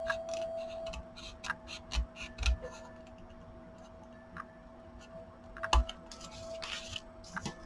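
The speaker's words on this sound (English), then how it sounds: "so I'm going to go ahead and trim that off" Scissors trimming the edge of a paper Christmas advent tag, with a few quiet close snips and crisp ticks scattered through an otherwise hushed stretch, no talking.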